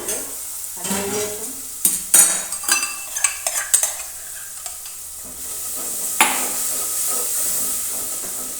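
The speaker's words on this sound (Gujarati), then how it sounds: "ત્યારબાદ આપણે હલાવી" Boiled potatoes and peas fry in a pan of tempered oil while a spoon stirs them, clattering and scraping in a quick run of knocks over a steady sizzle and hiss, close and fairly loud.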